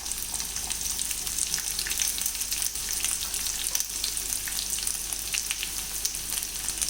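Thinly sliced onion frying in a pan while being stirred makes a continuous bright sizzle, close and even throughout, with small crackles and occasional stirring scrapes and no speech.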